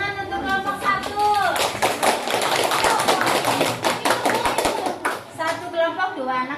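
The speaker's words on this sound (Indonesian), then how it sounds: "Tepuk tangan untuk kelompok 1" A group of children in a classroom clap their hands together in a dense, energetic burst of claps lasting a few seconds, with an adult voice speaking before and after.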